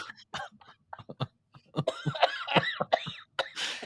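A few sharp coughs, followed by a voice talking in a strained, raspy way with bursts of coughing mixed in.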